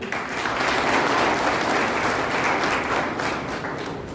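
An audience at a Brahma Kumaris Raksha Bandhan programme for PAC police personnel in Mirzapur breaks into sustained applause, a broad even roar of many hands clapping together that holds steady for several seconds before easing slightly.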